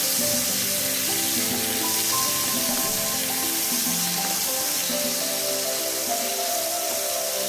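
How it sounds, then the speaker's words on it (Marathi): Marinated prawns fry in hot coconut oil in a pan, giving a steady, close sizzle with a busy hiss that holds throughout, under a layer of steady tonal background sound and with no talking. "इथं आता मी मॅरिनेट करून घेतलेलं सुंगटा घालून घेतो तेलमध्ये।"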